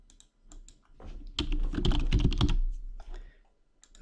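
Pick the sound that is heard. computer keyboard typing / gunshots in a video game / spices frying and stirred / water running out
computer keyboard typing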